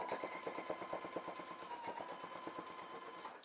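A home sewing machine running a long basting stitch along a skirt side seam, its needle hammering in a fast, even, close rhythm with a steady motor whine and no talking.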